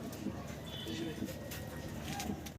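A pair of caged Andalusian indigo pigeons, a male and a female, give soft, low, repeated coos close by, with a voice speaking faintly under them.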